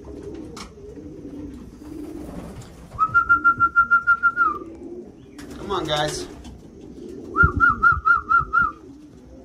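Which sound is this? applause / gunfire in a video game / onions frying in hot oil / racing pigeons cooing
racing pigeons cooing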